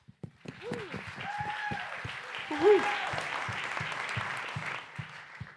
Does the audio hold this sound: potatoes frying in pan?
no